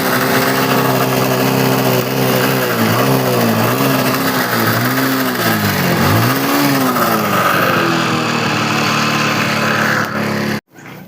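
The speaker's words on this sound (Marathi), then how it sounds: "गाडी न्यूट्रल आहे आणि किक स्टार्ट गाडी चालू करू." A Hero Splendor motorcycle engine, parked in neutral with choke applied, runs loudly and steadily up close, its pitch wavering with a few revs before cutting off abruptly near the end.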